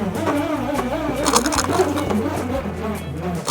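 A hex nut spins inside an inflated balloon with a continuous buzzing, whirring rattle that wavers in pitch, close and fairly loud throughout.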